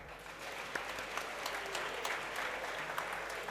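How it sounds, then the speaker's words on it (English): An audience at a student leadership council inauguration ceremony claps steadily, a dense, even wash of many hands heard from a moderate distance, with no one speaking over it. "Can we all give a big round of applause?"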